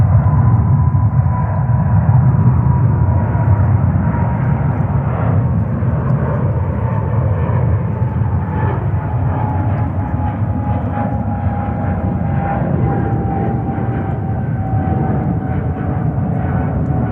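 An Egypt Air Boeing 777-300 jet at JFK airport gives off a loud, steady engine roar with a faint whining tone that slowly drops in pitch across the whole stretch.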